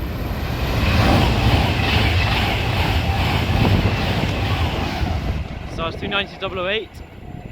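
Pendolino electric train rushes through Bletchley station bound for London Euston, a loud sustained roar with wind buffeting close by, fading as a person starts talking near the end.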